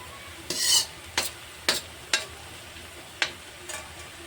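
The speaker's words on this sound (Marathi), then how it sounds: "आता आपलं अद्रक लसूण चांगलं तेलामध्ये परतून झालेलं आहे" Ginger and garlic frying over high heat in oil in an iron wok, with about six sharp, close stirring scrapes and sizzling bursts spaced through a quiet background.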